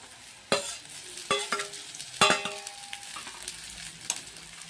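Safflower greens are tipped into a hot pan with crushed chilli and garlic, then stirred and fried, with sharp scraping knocks of a spatula over a steady close sizzle.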